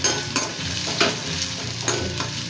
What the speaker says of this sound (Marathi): सोनेरी होईपर्यंत आपल्याला तेलामध्ये फ्राय करून घ्यायचं।